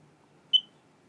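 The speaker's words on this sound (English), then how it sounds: "When a smoke detector's battery source is low, it will make a chirping sound like this." A single short, high-pitched electronic chirp from a smoke detector with a low battery, clear and close, in an otherwise quiet room.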